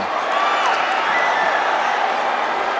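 Dense, continuous roar of a basketball crowd cheering inside Batangas City Coliseum, loud and unbroken, with faint whistles and voices blended into the din.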